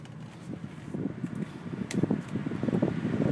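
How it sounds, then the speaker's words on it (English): A car's air conditioning fan kicks on inside a 2012 Nissan Altima Coupe V6 during a drive, a steady rushing whoosh that swells louder over a few seconds with no talk. "the AC's kicking on and the fan's getting too loud"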